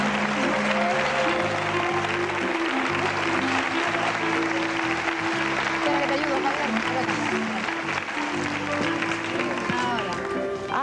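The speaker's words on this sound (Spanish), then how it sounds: "este fuerte aplauso del público" A loud studio audience applauds on a 1983 Spanish television game show, a dense sustained ovation with music playing underneath throughout.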